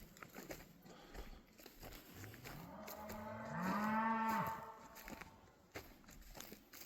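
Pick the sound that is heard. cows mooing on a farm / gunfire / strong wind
cows mooing on a farm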